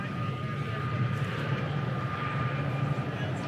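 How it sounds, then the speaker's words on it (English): Airplane flying in to land at Airventure, a steady distant engine drone with a constant tone, heard under outdoor crowd ambience and nearby voices. "Yeah, cool airplane."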